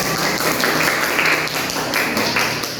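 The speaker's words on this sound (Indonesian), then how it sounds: "Kasih applause untuk kelompok saya." Classroom applause for a student group breaks out as a dense, continuous patter of many hands clapping together, loud and close, with no pauses across its short span.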